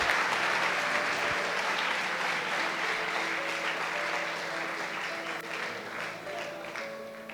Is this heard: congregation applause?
yes